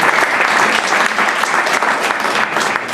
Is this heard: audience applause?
yes